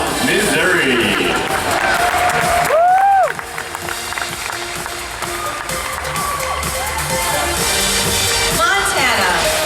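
Crowd cheering and applause fill a pageant arena at a swimsuit competition in Las Vegas, loud and continuous, with whoops and shouts rising over it and a host's amplified voice running through much of the stretch.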